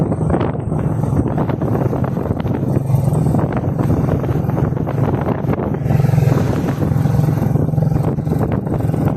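Steady wind buffets the microphone outdoors in cloudy, cool weather in Silang, Philippines, with a constant rumbling roar throughout and little else audible.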